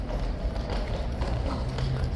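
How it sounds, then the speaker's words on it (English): Horses of the Household Cavalry Blues and Royals walking in, hooves clip-clopping steadily on hard ground amid crowd noise, moderately near. "here come our lovely first two Blues and Royals and their horses"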